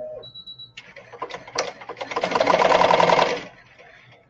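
A computerized embroidery machine beeps once, then starts stitching, its rapid needle clatter building into a steady, loud mechanical whir before it slows and stops.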